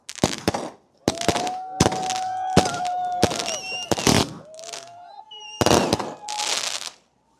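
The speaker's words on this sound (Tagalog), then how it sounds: "Nagdala ng fireworks yung ibang lahi." New Year's fireworks in Canada burst in a rapid series of loud cracks and crackling explosions, some with whistling tones between them, close and intense.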